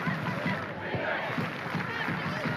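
Home football crowd at a women's A-League match, Wellington Phoenix against Canberra United, raising a steady roar of cheering and chanting that fills the whole stretch without a break.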